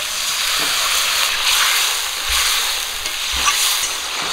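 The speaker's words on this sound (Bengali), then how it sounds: "লবণ, আর দিয়ে দেবো মাছের মাথা। মশলাটাকে একটু কষিয়ে নেব।" Spices and a rohu fish head are sautéed in a pan, with a loud continuous sizzle and hiss and occasional dull stirring thumps.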